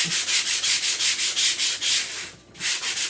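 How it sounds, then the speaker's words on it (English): A small sanding block rubs back and forth over rough painted wood in steady, rhythmic strokes, loud and close, with a brief pause near the end before the scraping resumes. "I'm going to take just a little sanding block here. I'm going to try to smooth that out a bit."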